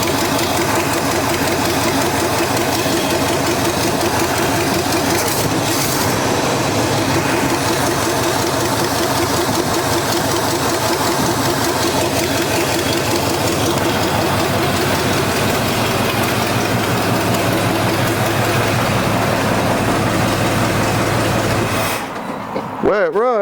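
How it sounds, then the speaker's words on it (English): Neglected old Chevy C10 squarebody pickup engine with a vacuum leak idling high and refusing to idle down, a steady, loud, close rumbling drone running continuously before cutting off at the end. "Where it runs, I can't get it to idle down"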